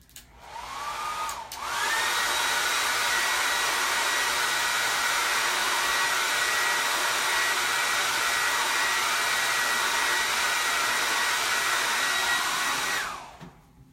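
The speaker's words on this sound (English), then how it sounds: "I think I am going to take a hairdryer to this real quick" A hair dryer whirs to life after a brief false start, then blows at a steady, loud pitch for several seconds before cutting off.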